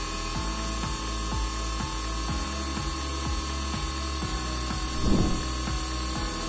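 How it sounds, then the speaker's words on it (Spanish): A fuel injector test bench simulates constant acceleration with all injectors firing, producing a steady rapid ticking over a continuous electrical hum, with a short spray-like hiss burst near the end. "Aquí el laboratorio nos está simulando una aceleración constante en el vehículo con la inyección de todos los inyectores para poder determinar su flujo y su atomización."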